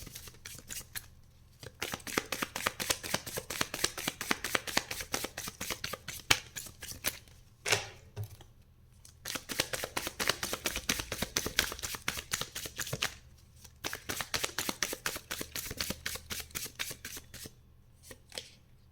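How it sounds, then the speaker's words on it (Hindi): Tarot cards being shuffled by hand in repeated bursts of rapid riffling and flicking, close and crisp, with brief pauses between rounds and no talking. "मैं थोड़ा कार्ड को क्लैरिफाई करना चाहूँगी"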